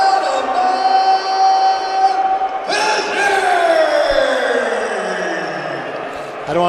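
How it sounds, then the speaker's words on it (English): An arena crowd at UFC 313 in T-Mobile Arena boos a fighter in a loud, sustained mass bellow whose pitch swells and then slides downward, with voices talking close over the din. "Yeah, they're booing this one."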